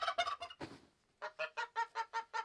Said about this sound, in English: Every time I talk, you're gonna gobble?